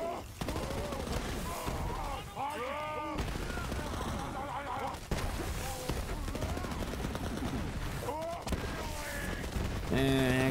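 Polybius legendary weapon firing in Borderlands 3, rapid repeated gunshots layered with game effects and a voice talking over most of the burst.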